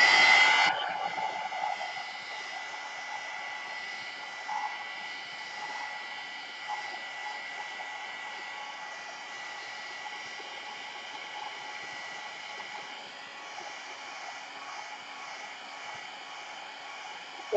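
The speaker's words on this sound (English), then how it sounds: "I'm gonna dry this ink up. So, heat gun, Marilyn." A heat gun drying ink on a gelli print blows a steady, loud, close hiss of hot air that runs unbroken for the whole stretch after a brief louder start, with no talking.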